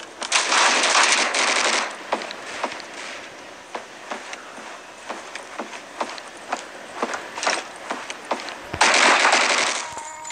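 Rapid AUG rifle gunfire in a first-person shooter game: long loud bursts at the start and end, with scattered sharp single shots and short volleys between them and no talk.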